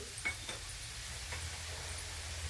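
Coriander seeds drop into hot oil, with the gas already off, while chivda snack mix is made, giving a brief, faint crackling sizzle with a light stir, heard alone.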